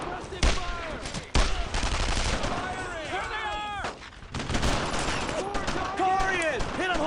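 Dense World War II gunfire in the video game Brothers in Arms: Road to Hill 30, with rifle and machine-gun bursts rattling continuously under voices shouting in the game.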